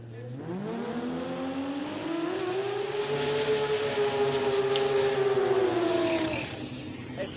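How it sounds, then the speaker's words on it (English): A race car at a racetrack during the Brisbane street-performance jamboree roars past, its engine pitch climbing and holding steady before dropping away, heard at moderate distance with no talk over it. "Getting the sounds of the racetrack through Diggle's microphone."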